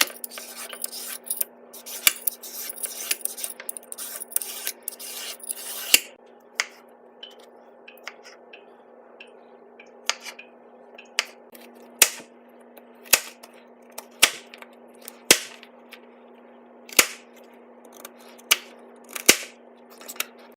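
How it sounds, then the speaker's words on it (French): A knife cuts a carrot and a banana into rounds on a board, giving a quick flurry of scraping cuts followed by evenly spaced sharp single chops, close and crisp. "les deux, on va les couper en rondelles"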